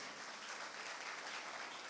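A church congregation breaks into enthusiastic applause during a sermon, a dense, even wash of clapping heard at a distance throughout, with no speech over it.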